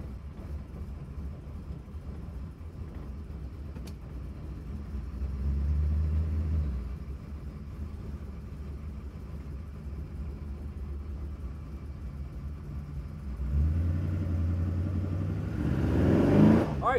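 A restomod 1955 Chevrolet 210 engine rumbles steadily while driving, swelling louder twice as it accelerates, with road noise throughout and no talking.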